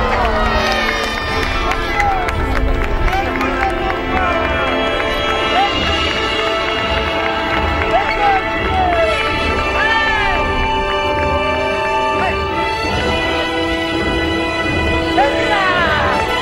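A crowd at an outdoor knights' jousting tournament in Clisson, with loud continuous cheering, shouting and children's cries, plus the faint thud of horses running, under an announcer speaking.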